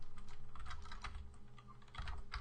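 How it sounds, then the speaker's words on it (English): Rapid typing on a computer keyboard, a dense run of close, fairly quiet key clicks that pauses briefly midway before resuming, with a faint steady hum underneath. "just type in Northwind"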